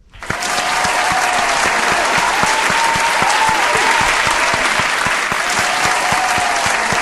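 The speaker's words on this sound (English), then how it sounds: "So let's give these guys a round of an applause, shall we?" Loud, dense applause swells within the first half second, then continues steadily and close for about seven seconds with distinct claps in the mix.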